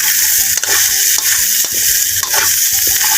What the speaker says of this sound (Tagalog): magigisa tayo ng bawang at sibuyas